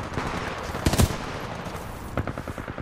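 Hemlock rifle fire in the video game Titanfall 2, sharp rapid bursts of gunshots with a loud cluster at about one second and more shots near the end.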